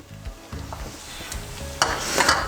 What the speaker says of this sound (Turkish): Bu tavada yavaş yavaş bunu bu acısıyla beraber tereyağıyla çevire çevire pişireceğim